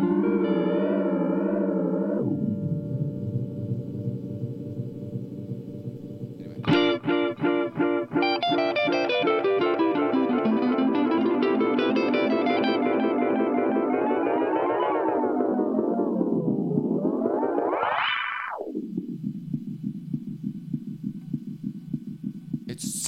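An analog effects pedal self-oscillates in sweeping, warbling tones that rise and fall like a spaceship taking off. The tone cuts out briefly, then surges back with a rising swoop and settles into a steady pulsing throb.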